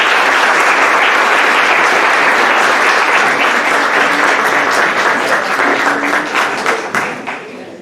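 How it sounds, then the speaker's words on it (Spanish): Loud, sustained applause from an audience honoring guests at the close of a clinical medicine academic session inauguration, steady and dense before thinning out over the last second or two. "les pido que despidamos con un fuerte aplauso a nuestros invitados de honor"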